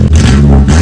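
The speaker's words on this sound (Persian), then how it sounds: "اگزوزم کلا در آوردم. ببین چه صدایی داره." A Peugeot 206 engine with its exhaust removed revs loudly and close, a raw, rasping drone that holds steady for under a second with a brief dip near the start.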